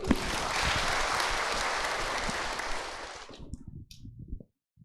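Audience at a motivational talk on mental resilience breaks into full, dense applause that holds steady for about three seconds, then quickly dies away into a few scattered final claps and silence.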